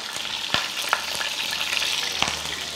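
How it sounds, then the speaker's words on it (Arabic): Butter melts and sizzles in a pot, a steady crackling fry with a few sharper pops and light scrapes, close and fairly loud with no voices. "راح ناخذ زبدة وراح نحطها على التنجرة ونبي الزبدة تدوب تماما"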